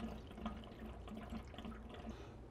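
Water from a Rinnai RUR199 water heater drains through hoses into a bucket, a faint, steady trickling and splashing of running liquid without any talk.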